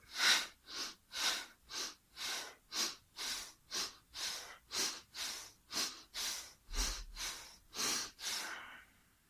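Forceful breathing in a Taoist-inspired meditation exercise, around fifteen loud, evenly spaced breaths of hard inhales and quick exhales, close and steady.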